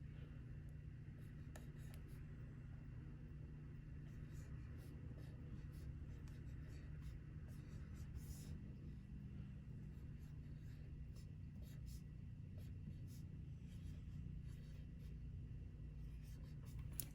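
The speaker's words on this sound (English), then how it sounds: "Draw a line down the middle." Pen or pencil writing and drawing a line on paper during a math lesson on adding two-digit numbers, a faint steady scratching that runs throughout against a low background hum.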